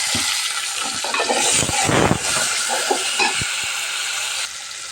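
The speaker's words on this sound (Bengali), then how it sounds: "এখন আমি চিংড়ি মাছটা দিয়ে দিলাম" Shrimp added to fried onions sizzling and crackling in hot oil, a steady loud frying hiss with occasional stirring scrapes close by.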